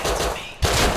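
Gunfire in the survival game Rust, a dense burst of loud close shots with sustained noise, then a sharp heavy blast after a brief dip near the end.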